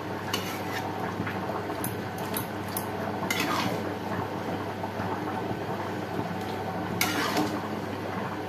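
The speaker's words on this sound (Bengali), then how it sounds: "পাঁচ 10 মিনিট ভালো করে কষিয়ে নাও।" Mutton with salt and slit green chili is stir-fried in a pot, a utensil scraping and clinking against the metal repeatedly over a continuous sizzling background.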